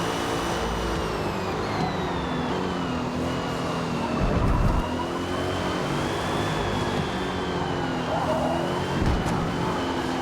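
Race car engines drone steadily in a sim-racing endurance race at sunset, a continuous high whine of revs rising and falling, with brief louder surges as cars pass close.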